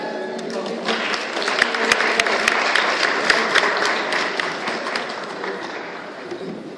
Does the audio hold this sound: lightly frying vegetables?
no